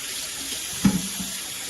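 A kitchen tap runs steadily into a sink while cut pieces of aloe vera leaf are rinsed under the stream. The water sounds close and constant, with a brief splash partway through and no voices.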